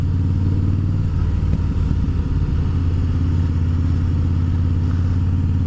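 A Harley-Davidson Fat Boy motorcycle engine idles steadily up close, a deep, even low throb with a loping rhythm and no voices.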